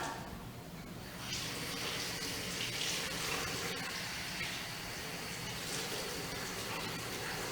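Warm tap water runs steadily into a container for a kitchen DNA-extraction experiment with salt and detergent, a continuous splashing stream that rises after the first second and holds at a moderate level.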